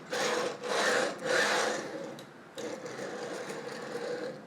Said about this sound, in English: That's so scratchy. Those are bad bearings,